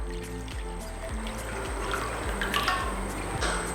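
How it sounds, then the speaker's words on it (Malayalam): Water pours into a bowl set out for soaking chicken pieces, a steady liquid trickle and splash lasting several seconds at moderate, close level. "ഇതിലോട്ട് നമ്മൾക്ക് കുറച്ച് വെള്ളം ആഡ് ചെയ്ത് കൊടുക്കാം"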